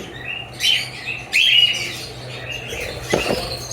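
Lutino red-eye pet birds at a breeding farm chirping in short, bright bursts, a few close calls rising over steady background chatter and a faint rustle of wings.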